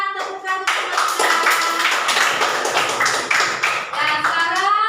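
Classmates applaud a presenting group in a classroom, a lively stretch of scattered, overlapping hand claps in the middle with a voice speaking briefly before and after.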